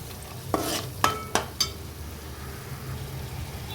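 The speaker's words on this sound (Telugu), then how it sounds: "అల్లం వెల్లుల్లి పేస్ట్ అనేది పచ్చివాసన పోయే వరకు కాసేపు ఆయిల్లోనే ఫ్రై" Ginger garlic paste fries in hot oil in a pan, giving a steady soft sizzle with a few sharp spatula clinks against the pan early on.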